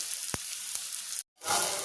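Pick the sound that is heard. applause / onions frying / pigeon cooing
onions frying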